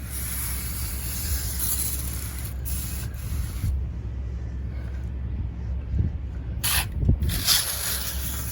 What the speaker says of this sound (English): we're gonna just go in with a nice spritz. Make sure we get some in the bottom of it.